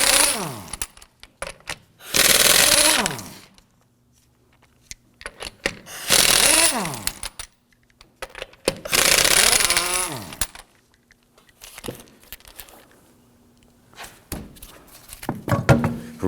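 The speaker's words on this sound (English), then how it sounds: "we're going to loosen and remove the lug nuts" Lug nuts on the front wheel of a 2008-2011 Ford Focus are loosened and removed with a 19mm socket: three loud, whirring power-tool bursts, each a few seconds long, separated by quieter clinks and handling noises.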